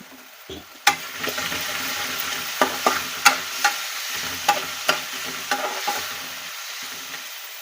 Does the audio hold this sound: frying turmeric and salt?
yes